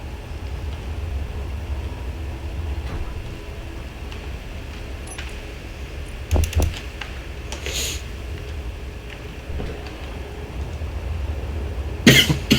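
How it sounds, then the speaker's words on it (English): A person coughs in short bursts, a rough cluster near the middle and another harsher one at the end, over a steady low background hum with no speech. "All this coughing cannot be fun."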